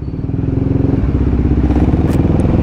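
A CFMoto 300SR motorcycle with a stock exhaust idling loudly and close, its engine pulsing in a rough, uneven rhythm that dips partway through as if struggling to keep running.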